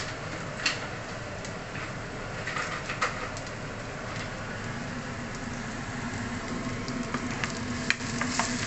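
Onion fries in a pan with a steady, close sizzle and crackle, occasional faint taps and clatter rising over the hiss, no voices.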